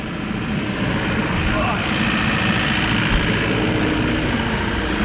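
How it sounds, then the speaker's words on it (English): A mulcher's EMR engine runs loud and steady, a constant droning roar with no pauses, close by, while a voice speaks faintly under the noise. "One thing about EMR engines is that they're definitely noisy compared to others."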